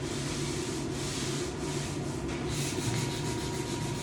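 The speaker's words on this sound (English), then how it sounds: "As you see, I'm not sanding real aggressive. Just light" Steady, soft rubbing of sandpaper over a historic wooden door being lightly sanded, a continuous gentle scratching with faint back-and-forth strokes, close and unhurried.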